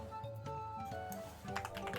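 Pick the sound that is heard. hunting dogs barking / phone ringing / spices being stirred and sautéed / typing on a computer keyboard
typing on a computer keyboard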